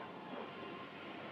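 A train rumbling past with a steady, dense roar of rail noise, fairly faint and continuous throughout with no talking.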